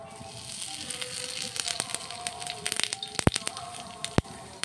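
Bay leaves and cumin seeds sizzle in hot oil in a home kitchen, a steady close crackle with sharp pops and spits scattered throughout.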